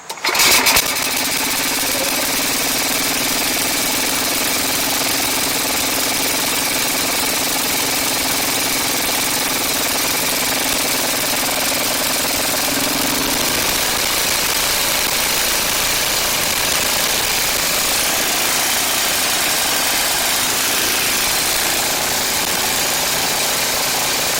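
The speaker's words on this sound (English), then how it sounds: "We got fuel flow. Choke. Let's fire it up." An Ariens 824 snow blower engine catches at once and keeps running, a loud, steady mechanical drone with a slight rattle. It holds an even idle for over twenty seconds, with no talk.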